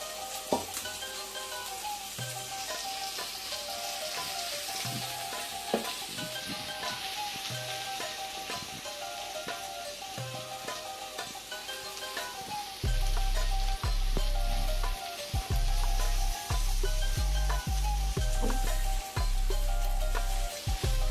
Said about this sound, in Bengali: শাকটা ভালোভাবে এখন শাকের সাথে মিশিয়ে নিই